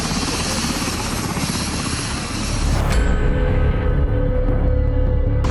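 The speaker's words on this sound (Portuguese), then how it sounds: "Foi com a ajuda de um Black Hawk, helicóptero da Força Aérea Brasileira, que a nossa equipe teve acesso ao município de Eldorado do Sul." A Brazilian Air Force Black Hawk helicopter flies over a flooded town, its loud, steady rotor thump and turbine drone filling the scene and growing slightly heavier partway through.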